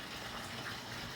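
Running water gushes steadily during a rinse in a beauty routine, a brief continuous close rush with no talking.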